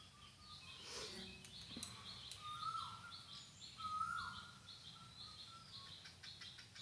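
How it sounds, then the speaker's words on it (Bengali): An Asian koel calls repeatedly in the distance, its rising whistled notes sounding faintly over a soft outdoor background with other small chirps and tweets, no talking. "আর কোকিল পাখির ডাক শুনতে পাচ্ছ তোমরা ভয়েসে।"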